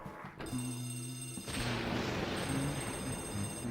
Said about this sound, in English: The ringing telephone.